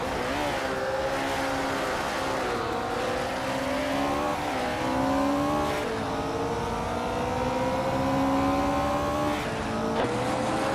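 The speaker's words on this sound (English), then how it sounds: "Strutting Jal and Scuderia Veloce are nose to tail for second place" Race cars in a video game drone steadily at high revs, engine pitch sliding up and down through shifts, with faint tire noise under the continuous loud roar.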